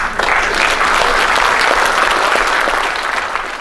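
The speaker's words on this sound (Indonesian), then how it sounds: "Tolong jangan ulangi tepuk tangannya." An audience bursts into loud applause during a speech, many people clapping together in a thick, continuous roar that holds steady for a few seconds before softening slightly.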